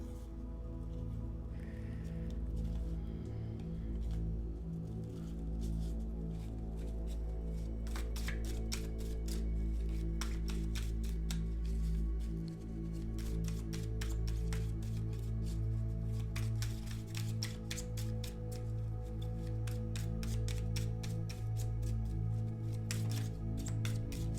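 Tarot cards are shuffled in a steady run of crisp, rapid riffling flicks that continue close and clear through most of the stretch, over a low background hum.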